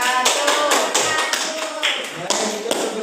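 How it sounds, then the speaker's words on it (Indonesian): A classroom group gives a short round of applause: quick, uneven claps and taps keep up for about three seconds, with voices mixed in. "tepuk tangan untuk kelompok 3"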